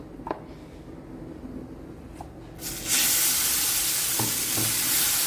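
Batter poured onto a hot tawa brushed with oil bursts into a loud, steady sizzle after a quiet start with a few light clinks, and the hiss carries on strongly to the end.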